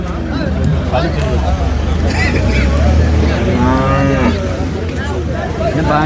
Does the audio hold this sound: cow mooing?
yes